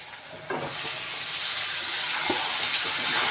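Goat blood tipped into a hot pan and frying with a steady, loud sizzle that swells and holds, broken by a few soft stirring scrapes; no voices.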